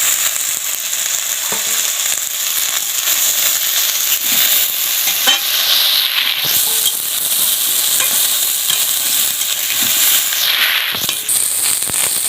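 Eggs fry in a hot pan with a loud, continuous crackling sizzle, dense spatters and pops running steadily throughout at close range.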